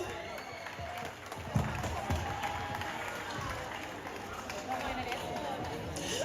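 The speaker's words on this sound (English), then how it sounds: "let's applaud our footballers" Crowd applause for the footballers at the Troy High School annual prize giving ceremony in 2023, a steady wash of clapping across a large audience that runs throughout with a murmur of voices beneath it.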